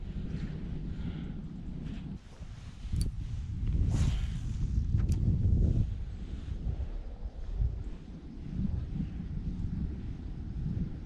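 Steady low wind rumble buffeting the microphone throughout on a cold autumn fishing outing, swelling stronger for a few seconds midway before settling back to a constant roar.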